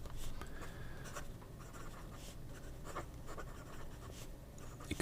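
Steady scratchy rasp of a Bach stub fountain pen nib, roughly 1.1 mm, dragging on paper with dry ink, continuous close strokes with small bursts and no talking.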